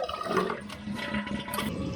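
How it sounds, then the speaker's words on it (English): Dual-button toilet flushed on the lower two-dot full-flush button, a close rushing gush of water draining through the bowl for a couple of seconds, with no talking. "And that's a complete flush"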